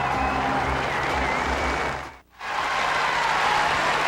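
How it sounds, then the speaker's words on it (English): An Australian crowd on Court 1 at Wimbledon 2003 cheers for Philippoussis as a dense, steady roar of applause and crowd noise that dips briefly midway, then swells back. "And now the Aussies begin to cheer on court 1."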